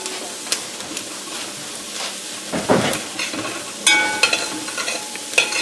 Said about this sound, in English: And as you can hear, that is sizzling.